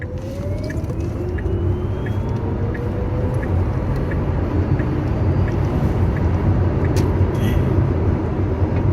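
Twin-turbo Toyota Supra accelerating hard from inside the cabin, a loud continuous engine roar with rising whine, steady throughout with no talk.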